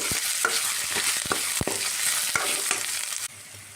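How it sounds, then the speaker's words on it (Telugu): Ginger garlic paste frying in a pan gives a steady hissing sizzle, punctuated by repeated sharp scrapes and clacks of stirring. The sizzle drops in level near the end. "అల్లం వెల్లుల్లి పేస్ట్ వేసుకోవాలి. ఫ్రై చేసుకోవాలి."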